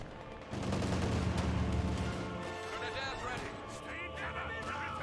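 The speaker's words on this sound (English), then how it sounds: "MC42 firing away" An MG42 machine gun fires in Company of Heroes 2 amid other battlefield gunfire, sustained bursts under a voice talking throughout.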